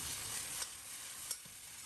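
Bamboo shoots stir-fry in a wok with soft, continuous sizzling and two brief scraping stirs; fairly quiet, with no one talking.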